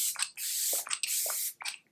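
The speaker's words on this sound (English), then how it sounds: "I usually just spray some of this fresh vitamin Nectar glow water just to hydrate" Several quick pumps of a vitamin Nectar glow facial mist spray, close and hissing, in bursts of varying length with brief gaps between them.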